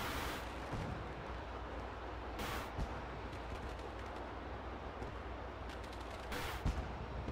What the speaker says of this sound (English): see the fireworks over there?